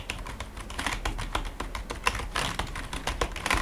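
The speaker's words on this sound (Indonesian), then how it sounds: "Jadi ini ngetik standar lah. Kira-kira seperti ini ya suaranya." Rapid, uneven typing on a Logitech MK215/MK220 keyboard with sharp clicky keystrokes in quick bursts, close and fairly loud, with no voices.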